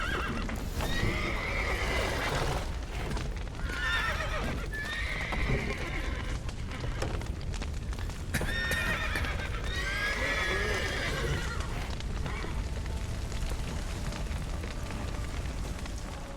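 Horses in The Witcher video game, neighing and whinnying repeatedly over rapid clip-clopping hooves and a roaring, fire-like rumble, close and fairly loud, with no speech.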